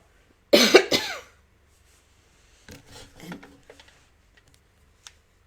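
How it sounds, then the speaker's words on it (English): A couple of sharp, raspy coughs up close, followed by quieter rustling and a few faint clicks. "Excuse me, I'm going to cough."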